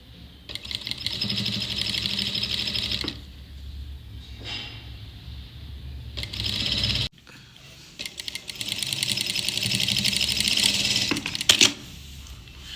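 A sewing machine stitches along the buckram edge of a pouch in two sustained bursts of rapid whirring, each ending in a brief pause with handling clicks as the fabric is repositioned.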